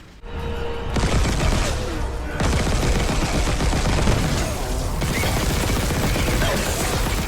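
A fully upgraded pulse rifle in the Dead Space remake video game fires long continuous automatic bursts, loud and dense, with short gaps between strings of shots and a rough, mechanical rattle.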